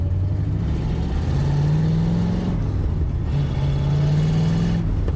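A Mustang Cobra engine runs steadily and quietly, a low continuous hum with a faint rising whine that repeats twice, with no talking over it.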